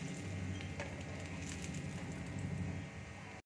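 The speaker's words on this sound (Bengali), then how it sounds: "তেল দেখো গরম হয়ে গেছে। এবার আমি পরোটাগুলো ভেজে নিচ্ছি।" Paneer and cheese parathas fry in hot oil over a medium-low flame, sizzling steadily and softly up close before the sound cuts off abruptly.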